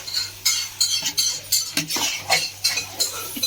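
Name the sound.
stirring and sautéing chicken with masala in a pot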